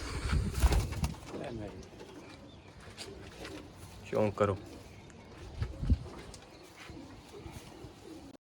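Bateraa pigeon cooing in short, low bursts amid cage noise and shuffling, with someone talking over much of it nearby.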